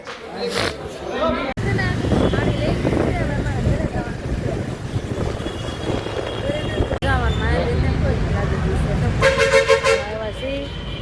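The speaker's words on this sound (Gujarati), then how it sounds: "ટ્રેન આમ જો કેટલું બધું ટ્રાફિક છે." Busy street traffic near a market in Surat, with engines, crowd babble and several short car horn toots, a burst of honking near the end, under someone talking over the noise.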